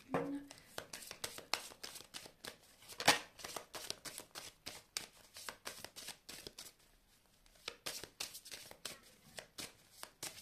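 Playing cards are shuffled and drawn by hand in rapid, crisp riffling bursts, close and quiet, with a brief pause before the flicking resumes.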